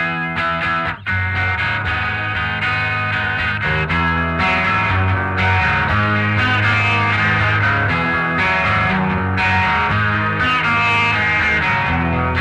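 A Ferrington guitar, used for neck tones, played through effects: a steady, dense run of distorted chorus-laden chords and notes with a brief dip near the start, loud and continuous with no talking.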